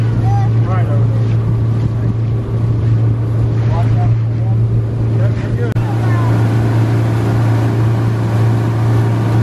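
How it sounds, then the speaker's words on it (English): A motorboat engine drones loudly and steadily up close on Lake Tillery, mixed with wind buffeting the microphone and occasional voices talking over it. "That boy's driving that boat like a champ."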